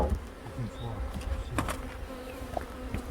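Honey bees buzz close by as a Norwegian beekeeper works an open hive, a busy overlapping hum with individual bees passing near, under quiet handling noises.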